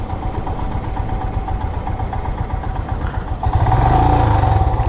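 Royal Enfield Himalayan motorcycle running with a steady, loud, low exhaust note that swells louder near the end, no talking.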